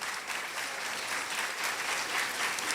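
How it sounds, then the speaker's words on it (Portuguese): A room full of attendees at a programme presentation and lecture gives a sustained round of applause, thick and even throughout with no voices above it. "mais uma vez, uma salva de palmas dos presentes"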